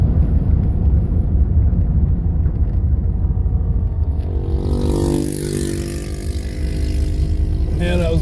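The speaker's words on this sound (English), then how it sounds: "that was a guy on a scooter" A scooter goes by on the street, a broad motor rumble that swells around the middle of the stretch and then fades, with steady low road noise running underneath throughout.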